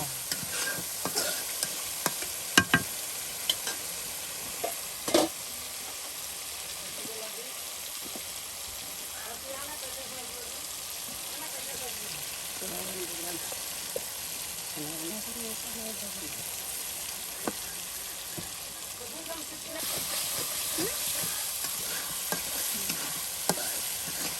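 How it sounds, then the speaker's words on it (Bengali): Fried meat cooking in a spice masala, giving a steady low sizzle with occasional sharp stirring knocks, while a voice talks faintly in the background. "একদম মশলাটা সুন্দর করে কষিয়ে নেওয়ার পর সেই ভেজে নেওয়া মাংসগুলো দিয়ে দেওয়া হবে"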